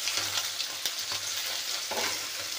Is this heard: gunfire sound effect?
no